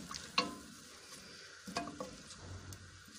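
Onions frying in oil in a pan for masala kaleji, a soft steady sizzle broken by a few sharp scrapes and clinks of a stirring spoon, heard alone.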